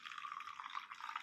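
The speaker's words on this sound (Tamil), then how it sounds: "இந்த கப்பில் இந்த தண்ணியை விடுவோம்." Water pours into a cup while a cooling pazhaya kanji drink is being made, a faint, steady trickle lasting about a second with no talk.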